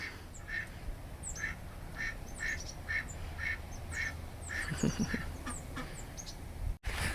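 Ducks quack repeatedly in a steady series of short calls over a low outdoor rumble, with a brief burst of louder quacking midway.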